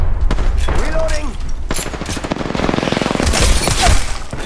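Rapid video game gunfire rattles through a shooter match, loud bursts of shots and reload clicks layered with game effects, continuous and close throughout.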